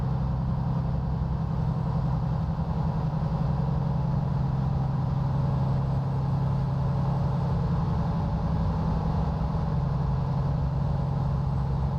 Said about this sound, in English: That sounds like a lot of revs happening there.